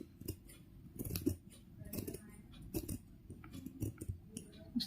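Scissors snip through fabric while a small doll dress is cut out, giving a run of close, crisp cuts in uneven bursts with short pauses between them.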